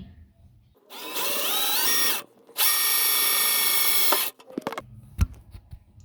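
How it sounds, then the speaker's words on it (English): A 12-volt cordless drill whirs in two bursts of a couple of seconds each, pitch rising as it spins up, close by. "12 volt drill. I'll help if I push the button right way."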